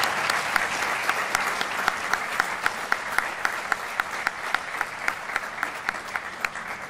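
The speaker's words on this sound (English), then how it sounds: "And just get a round of applause for the district." Audience applause at a U.S. Army Corps of Engineers Honolulu District change of command ceremony: a steady, moderately distant wash of clapping with a few sharper individual claps standing out, no voices over it.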